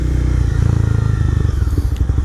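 A motorcycle with an aftermarket exhaust revs loud and close, with a deep throbbing idle and a rattling, crackling burble as the rider works the throttle, but no backfire pops.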